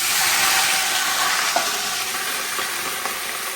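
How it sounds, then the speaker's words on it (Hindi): Water poured onto a burnt hot pan sizzles in a home kitchen, a loud, steady hiss filling the whole moment with a couple of small pops, no voices. "मैंने जले पे पानी डाल दिया"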